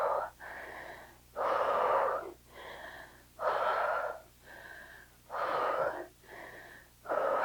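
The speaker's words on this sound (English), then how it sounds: "Take a second to catch your breath." Heavy, labored breathing after a lower body strength workout, with loud wheezy inhales and exhales in a steady rhythm of about six breaths, close to the listener, with no talking.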